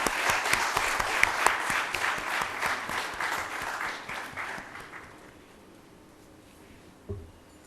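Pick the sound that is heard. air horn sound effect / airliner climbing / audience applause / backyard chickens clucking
audience applause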